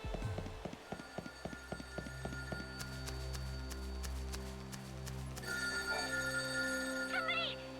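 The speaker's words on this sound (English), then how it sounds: "Oh, I hear the phone." A telephone rings in the Final Fantasy 13 Lightning Returns video game, with repeated bursts of ringing over a steady game soundtrack and a rhythmic clopping tick early on.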